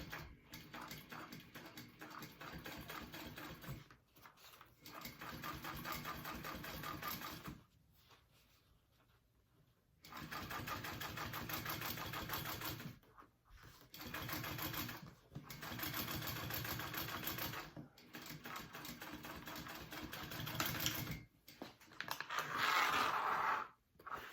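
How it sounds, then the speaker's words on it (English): A sewing machine runs top stitching along the bottom of a bag, stitching in several bursts of steady rapid clatter separated by short pauses, close and clear with no talk. "I am going to do a row of top stitching along the bottom."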